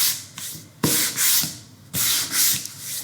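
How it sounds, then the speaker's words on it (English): Hand sanding across a painted wood sign, several rough rubbing strokes in an uneven back-and-forth rhythm, close and fairly loud with short pauses between passes. "So also that is a technique for sanding."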